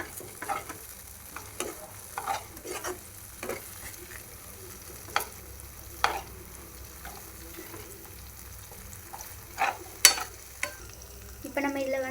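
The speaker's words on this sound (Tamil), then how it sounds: "நல்லா இதை மிக்ஸ் பண்ணிக்கலாம்." Red banana halwa cooks with ghee in a pan, a low quiet sizzle under repeated scraping and clinking strokes as it is stirred, the spoon strikes sharper and louder toward the end. No voice is heard.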